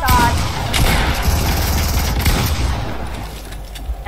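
Rapid gunfire rattles through a Fortnite zone-wars box fight in bursts that are loud and dense, then falls off toward the end, with a player talking faintly underneath.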